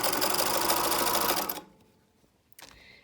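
Sewing machine stitching elastic folded over onto fabric for underwear, a loud, fast, steady motor-driven needle chatter for about a second and a half, then it stops, followed by a short faint clack.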